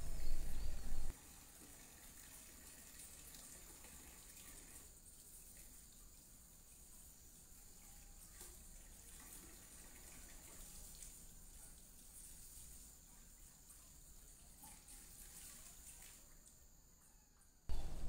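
Water runs steadily as someone washes their hands and feet, a continuous, fairly soft splashing stream that starts and stops abruptly, with no voices.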